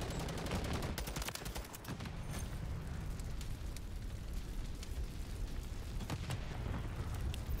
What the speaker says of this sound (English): Let's throw a nade over there.